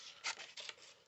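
Scissors cut through paper or cardstock during a craft fold project, a few quiet crisp snips and rustles close up, with no talking.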